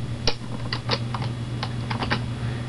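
Someone types a short download code on a computer keyboard, a few quick, crisp key taps spaced irregularly over a low steady hum, close and clear with no talking.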